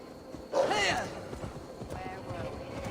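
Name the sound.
horse hooves while riding in Assassin's Creed Valhalla video game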